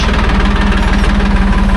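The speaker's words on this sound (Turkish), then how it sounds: "Altımızdaki traktör 26-25." A 58-horsepower 26-25 tractor engine chugs loudly and steadily nearby, its low, rhythmic diesel throb continuous throughout.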